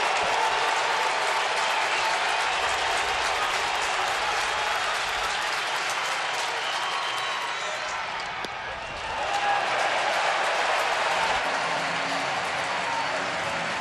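Baseball stadium crowd at a Braves vs Phillies game cheering and applauding in a loud, steady roar that dips briefly before swelling again.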